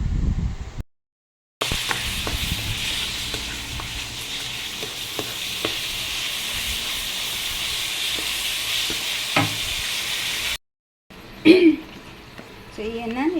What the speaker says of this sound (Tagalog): nagisa na tayo ng bawang, sibuyas, kamatis at luya